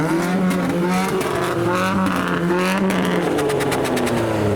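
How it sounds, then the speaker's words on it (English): Modified cars at a busy car meet slide and skid out of a car park, engines revving loudly with harmonic drone and bursts of tyre noise, one after another close by, with no talk. "slides and skids from the car park as the impatient traffic waits for their departures to be made"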